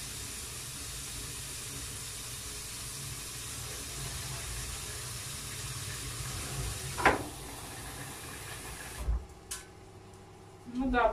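Bulgur rinsed under a running kitchen tap gives a steady, close rush of water. A few clinks and knocks of handling break through near the end.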